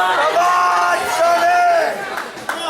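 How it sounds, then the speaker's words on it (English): Wrestling crowd at a live show chanting and shouting in unison, a loud sustained roar of voices that fades toward the end. "Mocking the crowd who was chanting, "Come on, Sonny."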